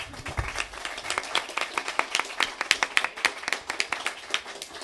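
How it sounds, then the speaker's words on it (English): Audience applause at a sustainability candidates' forum and debate, a steady patter of many hands clapping with sharp individual claps standing out, fairly close and continuous throughout. "Now you can all applaud."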